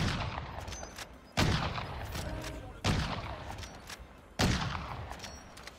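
Three heavy, evenly spaced rifle shots from a Swiss K31 in Warzone. Each sharp crack decays into a long rolling echo, and faint battle noise fills the gaps.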